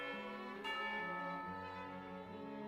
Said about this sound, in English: Hear the sound of a bell.